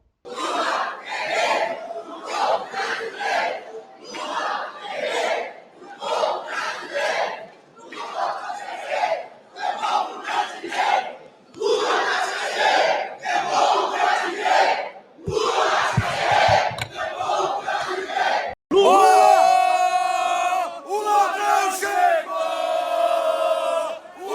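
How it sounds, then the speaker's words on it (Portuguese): Federal deputies in a packed plenary of Brazil's Chamber of Deputies cheer and boo President Lula, their massed voices rising in rhythmic, chant-like bursts, then swelling into a louder, continuous wave of shouting near the end. "Lula foi ovacionado por deputados aliados e vaiado por parlamentares da oposição"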